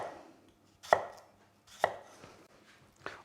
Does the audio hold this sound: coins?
no